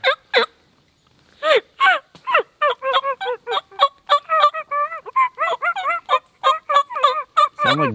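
A person imitates a wild turkey's gobble with voice alone, rapid warbling bursts repeated in quick rhythmic runs, loud and close.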